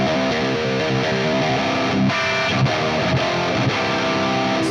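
Distorted electric guitar played through an amp simulator, a thick, saturated tone with sustained chords and a few sharp accents, loud and steady with no talking.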